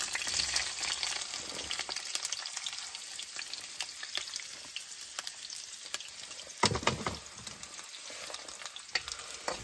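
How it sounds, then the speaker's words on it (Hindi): Onions hit hot oil for poha with a steady close sizzle, broken by stirring clatters and a louder burst of frying around the middle. "ये तेल हमारा जो है रेडी हो चुका है। अभी इसके अंदर जाएंगे प्याज"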